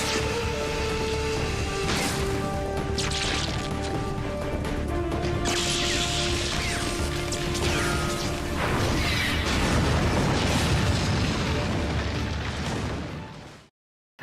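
A loud explosion from a scene in the TV show Arrow crashes and roars with debris, rumbling on for several seconds under a sustained musical score before cutting out abruptly.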